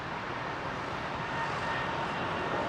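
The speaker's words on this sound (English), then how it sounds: "The newest aircraft with British Airways. Stretching her wings, look." A British Airways Boeing 787-10 airliner at London Heathrow runway 27R makes a steady, broad jet roar that holds evenly throughout, moderately distant, with no voices.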